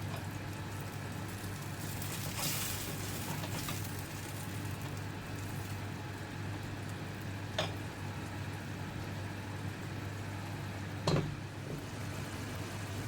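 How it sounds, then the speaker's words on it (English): Zucchini and baby okra simmer in a tomato vegetable sauce in a pan, giving a steady low bubbling hiss over a faint hum, with an occasional click and no voices. "Next, I add zucchini and baby okra, then let everything simmer"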